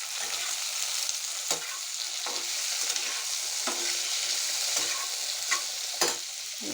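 Onion and tomato sizzle steadily in hot oil for a lotka vegetable curry, in a pan where garlic was fried first. The hiss is continuous and close, broken by occasional sharp scrapes of stirring.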